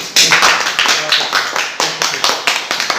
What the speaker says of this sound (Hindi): चलिए अब एक बार सभी आदमी ताली बजा दीजिए।